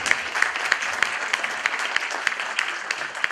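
Audience applause for Pastor Shawn Boonstra at a live Sunday morning keynote, a steady wash of many hands clapping that stays even throughout with no voices over it.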